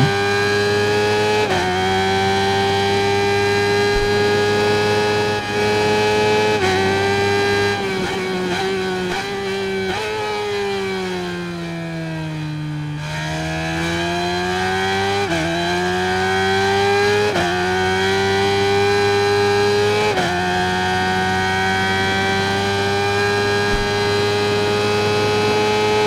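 A 2017 Suzuki GSX-R 600 motorcycle engine in the racing game RIDE 5 screams at high revs, holding steady tones between repeated gear shifts, with one long dip and climb through a corner, loud and continuous without speech.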